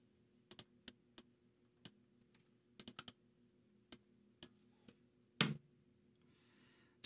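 Sparse, quiet clicks of typing on a computer keyboard in a quiet room, with irregular single and clustered keystrokes and one heavier key press near the end.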